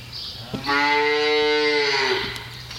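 A dairy cow on a small farm gives one long, loud, close moo lasting about a second and a half, with no talk.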